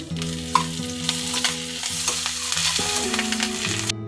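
Onions, green chillies and curry leaves fry in a pan, giving a steady close sizzle with scraping stir strokes over soft background music, and no one talks.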